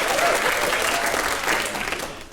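An audience at a radio comedy showcase applauds in a dense, steady burst of clapping that fills the room and tapers slightly at the end, with no voices over it.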